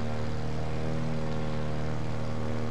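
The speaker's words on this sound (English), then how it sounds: "I'm in a pink plane." A pink propeller plane in the game Just Cause 2 flies with a constant droning engine hum, a steady tonal buzz with no break, close and loud.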